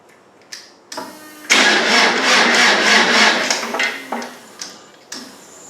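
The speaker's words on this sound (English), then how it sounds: "the injector pump is working when I'm cranking" A Land Rover 300Tdi diesel engine cranks slowly without starting, a loud rhythmic churning of the starter lasting a few seconds between short clicks and clunks, close up with no talking.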